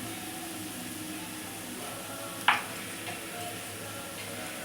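Masala of red chilli, coriander powder and turmeric fried and stirred in oil for a dhaba-style egg curry, giving a low steady sizzle with one sharp clink partway through and no talking.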